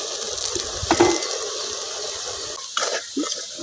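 Data greens fritters (pakora) fry in hot oil, giving a steady close sizzle and hiss with a few brief bubbling surges as the pieces are turned.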